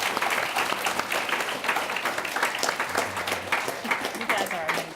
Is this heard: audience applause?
yes